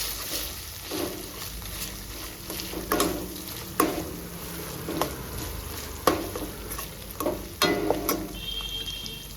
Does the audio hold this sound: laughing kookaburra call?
no